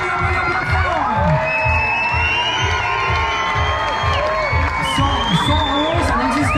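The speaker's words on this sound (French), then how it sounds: "je demande un tonnerre d'applaudissements pour les organisateurs de cette soirée, le Firefighter Festival." A crowd at the Firefighter Festival evening event cheers, whoops and shouts loudly and steadily, with children's voices and voices mixed throughout.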